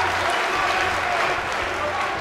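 Wrestling crowd in the WWE 2K video game cheering as a steady, dense roar of cheers and clapping that holds at an even level for the whole moment.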